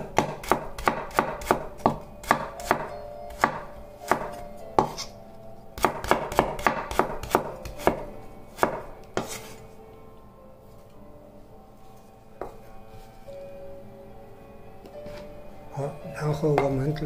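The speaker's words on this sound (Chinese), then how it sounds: "那切点胡萝卜片配色" Crisp rhythmic knife strokes on a cutting board slice carrots into thin pieces, a quick run of close taps that pauses, resumes, and thins out toward the end, with faint talk underneath.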